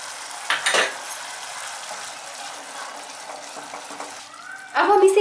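A spoon stirs red pasta sauce with tomato sauce and black pepper in a pan, with soft scraping bursts at the start and again near the end and a quiet simmering hiss between them.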